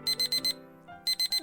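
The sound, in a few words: 6:45 alarm clock ringing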